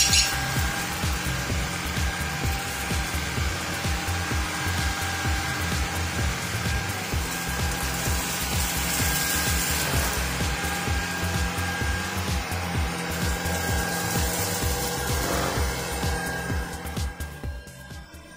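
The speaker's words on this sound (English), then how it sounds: "I'm testing everything out from uncooked rice to flour and even some garlic peels just to see how good the suction is using the hardwood setting" A Shark Vertex Multi-Flex cordless vacuum runs continuously on its hardwood setting, picking up uncooked rice, flour and garlic peels from a hardwood floor with a loud, steady motor whine and faint rattling debris, then winds down at the end.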